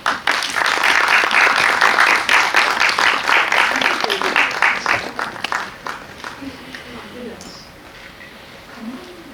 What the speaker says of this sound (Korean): 자리에 모실 테니 큰 박수 부탁드릴게요.